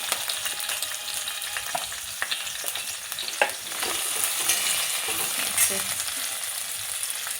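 Capsicum sizzles and fries in a pan in a home kitchen, a steady hiss of oil with occasional clinks and scrapes of stirring, no voices.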